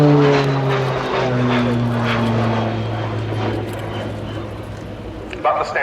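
Pilatus PC-9M turboprop trainer in a flying display at an air show, a loud steady propeller drone with sliding engine tones, under commentary voices throughout.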